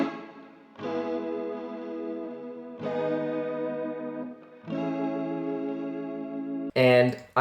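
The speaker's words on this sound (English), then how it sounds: "And now our delayed, reverbed, and EQ'd guitar sounds like this." A strummed guitar processed with delay, reverb and EQ rings out in three sustained, shimmering chord swells with echoing tails, followed by a short brighter burst at the end.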